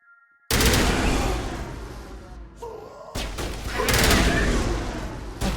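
A newly acquired gun fires in the video game Mass Effect. Loud, dense bursts of rapid fire fill the clip, with one brief pause partway through.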